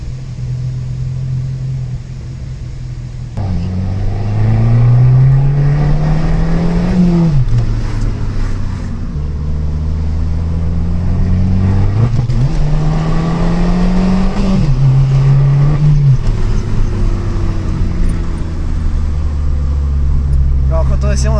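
A car engine revs and accelerates in three or four rising surges, each climbing in pitch and then dropping back as it shifts, with a steady loud rumble underneath. The sound is close and sustained, with no talk over it.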